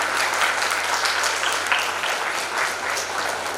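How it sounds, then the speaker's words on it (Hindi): An audience at a writers' festival breaks into sustained, dense applause, many hands clapping steadily for several seconds with no voices on top. "एक बार जोरदार ताली हो जाए हमारे कामों के लिए।"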